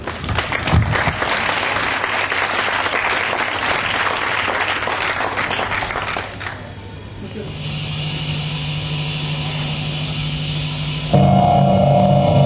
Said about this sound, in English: give a round of applause to Nanko